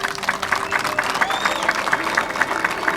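A crowd applauds at an outdoor groundbreaking ceremony in Lualaba: steady, fairly loud clapping runs throughout, with a faint whistle-like tone and a voice in the background.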